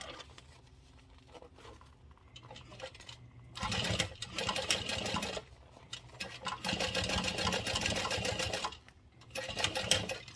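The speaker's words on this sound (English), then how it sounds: "I'm going to go ahead and chain sew and go right on to the next one." Sewing machine chain stitching lining and exterior pieces of a garment, running in two clear bursts of rapid whirring with quieter pauses, plus a brief final spurt, close and prominent.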